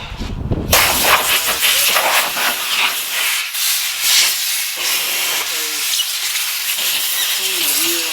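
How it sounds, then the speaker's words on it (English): Compressed air blasts against a freshly painted wheel and all-terrain tire, a loud, steady rushing hiss that opens with a sharp burst and keeps going with small fluctuations and faint squeaks. "I'm going to take a little bit of compressed air,"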